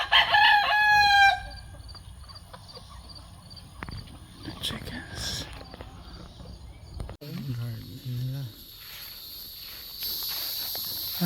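A rooster crows loudly at the start on a farm in Marquez, Texas, followed by quieter farmyard ambience, footsteps and some talking, then a short burst of clucking-like chicken sounds near the end.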